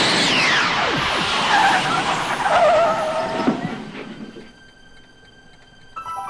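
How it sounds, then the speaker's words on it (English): A car in the Back to the Future video game skids with a loud, close tire squeal that sweeps down in pitch over several seconds, then fades into quieter ambience before a short final noise. "that sounded like the car"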